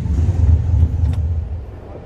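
A bagged single cab truck's engine idles with a loud, steady low rumble throughout, close by, with no speech over it.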